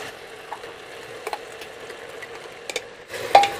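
Coarse spinach paste is stirred into mutton in a pan for Lucknowi degi-style palak gosht. A quiet, low sizzle runs throughout, broken by scattered spoon clicks and scrapes, and the sound gets busier toward the end.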